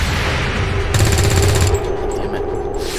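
Rapid automatic gunfire from overwatch shots in the video game XCOM 2, a dense burst of bangs in the middle over busy game background noise.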